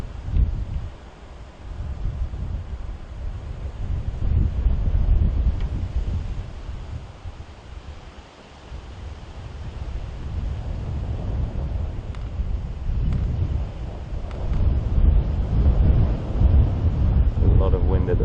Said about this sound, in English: A lot of wind at the moment